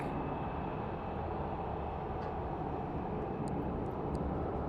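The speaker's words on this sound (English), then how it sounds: "There's our ABX Air 767. Departing for Cincinnati." A departing ABX Air Boeing 767 at Phoenix Sky Harbor at night gives a steady, broadband jet roar that holds constant throughout, moderately distant, with no talk over it.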